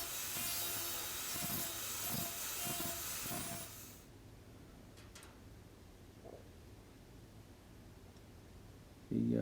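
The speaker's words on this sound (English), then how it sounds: "a little bit of grind" Harsh abrasive grinding on an all-metal fuel filler door just MIG spot-welded into a 1966 Ford F250, loud and steady for about four seconds, then stopping, leaving quiet shop ambience and a brief clatter at the end.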